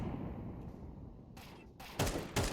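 A few sharp gunshots in Counter-Strike 2 fired while strafing, two or three loud cracks near the end following a low rumble of movement and ambient game noise.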